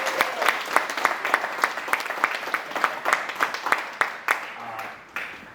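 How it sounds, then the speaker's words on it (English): Audience applause at a community homeownership event in Moreno Valley, steady rhythmic clapping from a crowd, moderately distant, fading out toward the end with a voice coming in. "Let's give a big round of applause."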